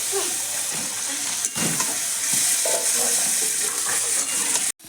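Chicken pieces frying and being stirred in a kadai, a loud continuous sizzle and hiss close up with occasional spoon scrapes, running steadily throughout.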